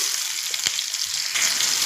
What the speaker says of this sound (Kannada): ಎಣ್ಣೆ ಕಾದಿದೆ ಈಗ ಒಂದು ಕಾಲು ಕಾಲು ಟೇಬಲ್ ಸ್ಪೂನ್ ಆಗೋಷ್ಟು ಸಾಸಿವೆ ಜೀರಿಗೆ ಎರಡು ಹಾಕ್ಕೊಂಡಿದ್ದೀನಿ